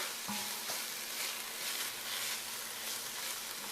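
Garlic starting to fry in a hot pan, a steady bright hiss of sizzling oil that holds evenly for a few seconds, close and fairly quiet, with no talk.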